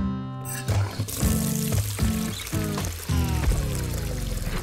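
Shower water pours steadily during rinsing, a close continuous splashing stream mixed with a layered musical background throughout.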